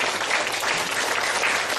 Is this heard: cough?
no